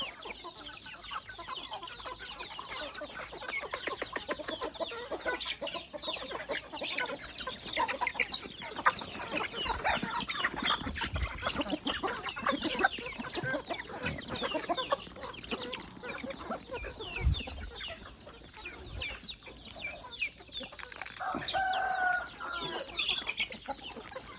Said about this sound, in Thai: ส่วนไก่เยี่ยเขียวนี่ เอ่อไม่ขายนะครับ พ่อพันธุ์นะครับ